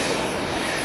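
Massive jet airliner engines spooling up at an airport, a loud, continuous roar across the whole brief moment.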